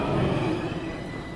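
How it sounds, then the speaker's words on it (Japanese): A commuter train pulls into a station, a steady, fairly loud low rumble of rolling wheels and carriages that holds evenly and eases only slightly across the short stretch, with no voices. "なんで電車来ちゃってるよ。"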